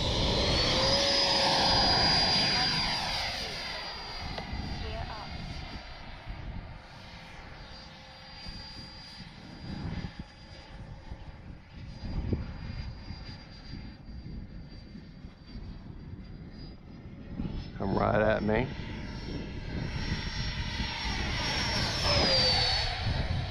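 Freewing F-22 Raptor HP 6S RC jet flying under a clear sky, a steady loud ducted-fan whine with sustained high pitch that dips slightly mid-pass and surges again near the end, close and continuous.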